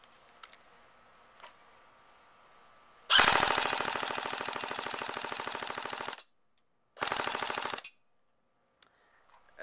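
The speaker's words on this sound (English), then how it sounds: "So let's do a burst on auto." A G&G GR-15 Raider-L airsoft rifle fires two loud, rapid full-auto bursts, a long one of about three seconds and then a shorter one, each a dense rattling stream of shots with quiet gaps between.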